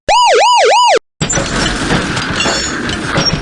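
A loud electronic police car siren from a PC video game wails, rising and falling rapidly for about a second, then cuts off, followed by a burst of noisy, clattering sound.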